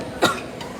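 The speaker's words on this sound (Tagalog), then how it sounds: "umuubo sa live ko" A single short cough from a person on a live stream during a badminton singles match, sharp and close, followed by quiet.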